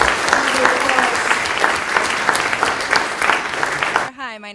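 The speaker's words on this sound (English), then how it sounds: "Let's give Natasha and Daniel another round of applause." Audience applause for Natasha and Daniel at a talk on student learning outcomes assessment, steady dense clapping for about four seconds before cutting off abruptly, followed by a brief quiet voice.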